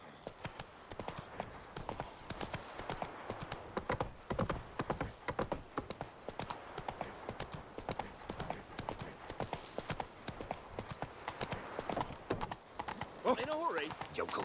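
Roach, the horse in The Witcher 3, gallops with a continuous fast clip-clop of hooves, close and prominent, while people talk over it and a short whinny sounds near the end.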